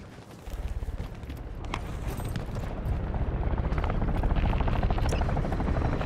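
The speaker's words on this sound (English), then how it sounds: "I think he's in a chopper." Helicopter in the video game Call of Duty Warzone, a steady loud rotor thump that swells closer over several seconds with a heavy low drone, no voices.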